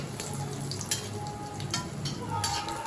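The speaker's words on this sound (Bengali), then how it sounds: "এই যে লাউর ঘন্ট বড়িটা আগে ভেজে নিচ্ছি" Dried lentil dumplings (bori) frying in oil with ghee for a bottle gourd ghonto, a low, even crackling sizzle with scattered light pops and occasional stirring ticks, fairly faint throughout.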